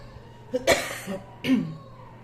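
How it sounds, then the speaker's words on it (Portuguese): Two short, close coughs separated by a brief pause, with a faint throaty sound in between. "Desculpa a tosse"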